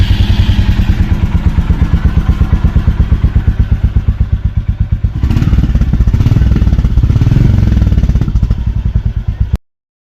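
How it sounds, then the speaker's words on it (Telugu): A Royal Enfield Classic 350 with its stock silencer thumps at a steady, even idle close to the exhaust, then is briefly revved to a fuller, louder beat before it drops back and stops. "ఇప్పుడు మీకు స్టాక్తోని సౌండ్ ఎలా వచ్చింది అనేది ఒకసారి చూపిస్తున్నా"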